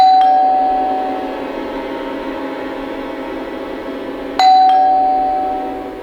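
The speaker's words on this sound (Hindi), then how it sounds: "तभी दरवाजे पर घंटी बजी।" An electronic doorbell chimes twice, each tone ringing out and fading slowly in a quiet room.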